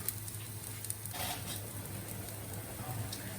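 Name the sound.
cutlets with banana blossom frying in a pan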